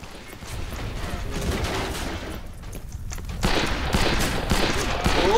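Pistol shots from the Western shooter game Fistful of Frags ring out in a rapid, irregular volley of sharp cracks over continuous busy game noise, growing louder toward the end.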